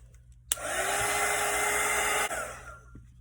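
A hair dryer blows on fresh acrylic paint of a snowman painting, switching on abruptly and running as a loud steady whoosh with whine for under two seconds before cutting off.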